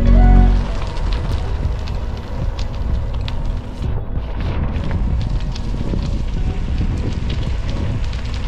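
Wind gusting across a coastal gravel cycling trail on the Camel Trail in Cornwall: a loud, continuous, roaring rush that buffets steadily throughout, with no voices.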